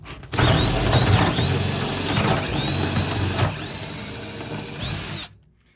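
A power drill bores out a lock cylinder, grinding and whining steadily for about five seconds with short rising screeches as the bit catches, then cutting off abruptly.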